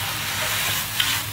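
Shredded potatoes stir-fry in a hot wok with a loud, close, continuous sizzle and hiss, broken by a single sharp scrape of the spatula near the end of the brief burst.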